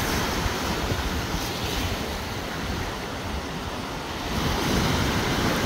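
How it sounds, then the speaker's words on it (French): Ocean waves breaking on a beach, a steady broadband roar of surf with wind noise on the microphone, swelling slightly near the end, no voices. "Allez, je vous laisse écouter le bruit des vagues en même temps."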